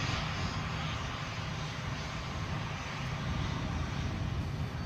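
An Airbus A320 jet passes at Edinburgh airport, a steady distant engine roar that stays even and moderately loud throughout, with no talk over it.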